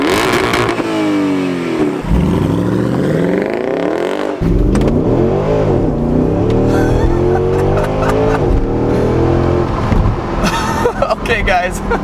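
A Mercedes-AMG SL with the M156 6.2-liter V8 revs loudly and close by, climbing and falling through repeated throttle blips with a deep, rumbling burble between pulls, while someone talks excitedly over it.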